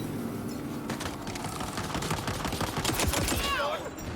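Gunshots in Tiny Tina's Wonderlands, a steady run of quick sharp reports like automatic fire, moderately loud and continuous over a busy game background.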